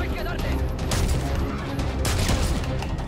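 Rapid gunfire and explosions in Dead Space 3 on PS3 form dense, continuous bursts of shots with booming impacts, played loud throughout, with a voice heard over the action.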